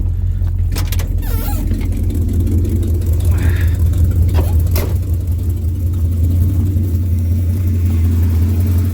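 A 1974 Ford Gran Torino Elite with an oil leak runs steadily close by, a deep, even engine rumble holding for the whole stretch with no clear revving.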